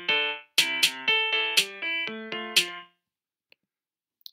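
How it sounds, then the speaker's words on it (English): A synthesized piano voice in Chrome Song Maker plays a brief melody of sustained, ringing notes in a lilting rhythm, clean and close, then stops, leaving a couple of faint clicks. "I can have a piano sound."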